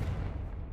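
The Confringo blasting spell goes off in Hogwarts Legacy as a single deep boom that rumbles briefly and then fades.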